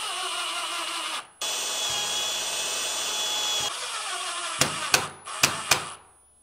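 Power drill with a 1/8 inch bit drilling during a radon mitigation system install, a close whining motor run that stops, restarts and changes pitch, then several short sharp bursts near the end.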